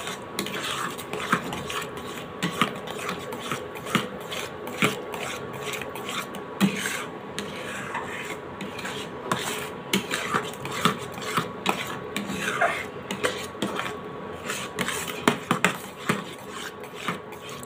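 Ripe mango pulp and sugar being stirred in a pan for aam shotto, a continuous close scraping and rubbing of the utensil against the pan with frequent small clinks, alone without talk.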